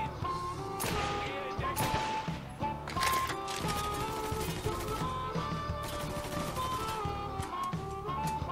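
Gunfire in the video game Mafia 3, a run of sharp cracks and crashing impacts scattered through a dense, busy mix of game sound and music.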